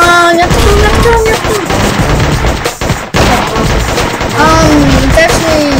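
Rapid gunfire from the video game Gun Mayhem, including shotgun blasts, crackles in dense bursts over looping game music, loud and continuous throughout.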